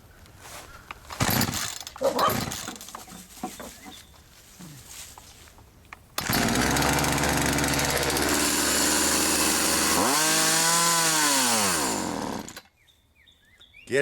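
A free chainsaw is pulled and sputters, then fires and runs at a loud, steady roar, revving up and down before it cuts out abruptly; muffled handling noises and voices come before it.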